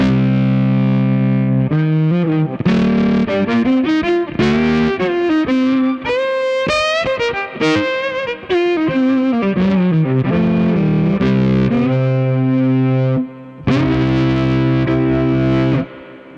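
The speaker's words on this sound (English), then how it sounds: "change to an overdrive sound" An overdriven, distorted violin played through bass amps plays a sustained, gliding melody with gritty tone, loud and close, with brief pauses between phrases.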